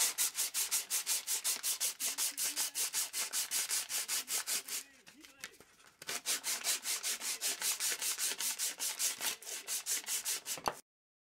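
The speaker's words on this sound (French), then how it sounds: "Maintenant je vais m'attarder sur le ponçage." A wooden mallet handle is hand-sanded in steady back-and-forth strokes, a rapid rhythmic rasping close up that pauses briefly midway, then resumes at the same even pace before stopping.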